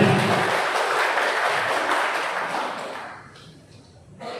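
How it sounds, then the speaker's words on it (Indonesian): An audience at a corporate company event claps together in a broad, dense burst of applause that holds steady, then thins and fades out, with a brief flare near the end. "Tepuk tangan sekali lagi untuk kita semuanya"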